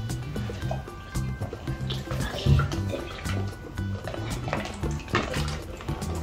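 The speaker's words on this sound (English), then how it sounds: "As you can see, the water is going slowly." Water slowly draining between two connected plastic bottles of a tornado science kit, a soft gurgling, bubbling trickle with small drips, close and fairly quiet.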